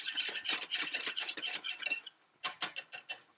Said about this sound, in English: I am going to whisk it in there.